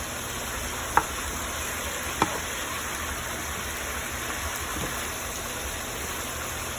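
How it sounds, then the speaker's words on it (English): Chicken frying in a pan gives a steady, loud sizzle throughout, with a couple of faint clicks as the pieces are stirred and tossed. "Let's stir them up,"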